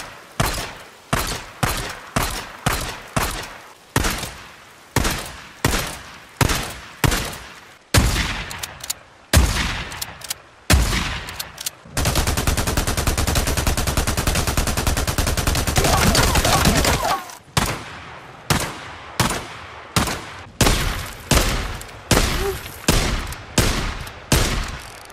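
Sidearm pistols fire in the video game Days Gone, with loud, close single gunshots in a steady rhythmic series, then a few seconds of sustained rapid buzzing fire from a stun gun, then more evenly spaced shots.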